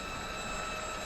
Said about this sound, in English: Listen to the wind noise.